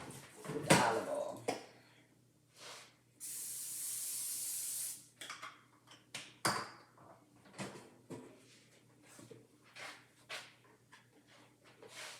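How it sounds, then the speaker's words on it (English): Olive oil sprayed into the basket of an air fryer while pork chops are prepared, heard as one steady hiss lasting about two seconds, surrounded by scattered clatter of kitchen handling. "I'm going to spray this air fryer inside"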